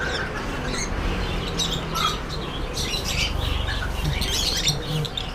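Caged birds at a pet shop, including lovebirds, fantail pigeons and cockatiels, call and chirp in a dense, continuous chorus of overlapping tweets and squawks with steady background noise.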